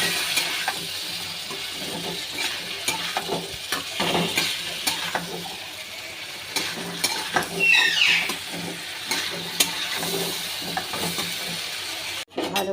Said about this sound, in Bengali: দিয়ে ভালো করে কষে নেব